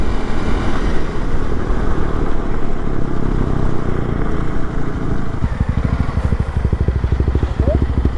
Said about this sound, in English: I can hear his exhaust all the way back here.